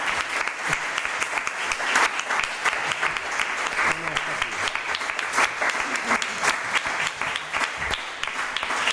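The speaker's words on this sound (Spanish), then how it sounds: "Bueno, vamos a aplaudir" An audience at a book presentation in a municipal setting breaks into sustained applause, many hands clapping densely and loudly for the whole stretch, with some voices mixed in beneath.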